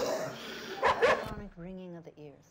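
A dog in a horror film gives a couple of sharp barks and a whimpering yelp, loud and close, with a voice talking over and after it.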